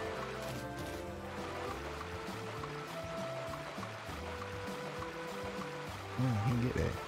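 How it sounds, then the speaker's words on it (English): A waterfall in the role-playing game Chained Echoes gives a steady, moderate rush of falling water under tonal game music that runs throughout. "And a waterfall."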